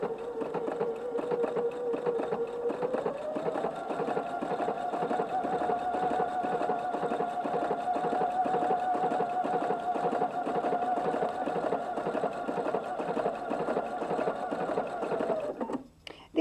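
Domestic sewing machine running a decorative stitch through quilt applique, a steady close mechanical whir with rapid needle clatter, speeding up slightly after a few seconds and continuing evenly before stopping.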